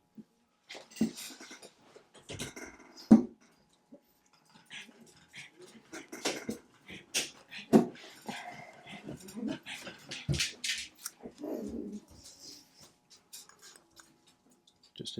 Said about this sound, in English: just invaded by dogs